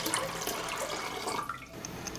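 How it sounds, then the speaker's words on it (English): Tap water runs and splashes into a cooking pot for boiling pasta, a close, steady gush with small bubbling variations and no voices. "I pour water into a pot and wait for it to boil."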